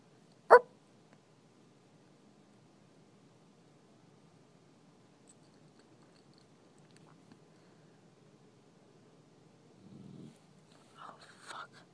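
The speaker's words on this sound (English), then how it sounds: "Oh, fuck, a dog." A dog gives one sharp, close bark right at the start, followed by a long stretch of quiet outdoor background with a few faint, brief sounds near the end.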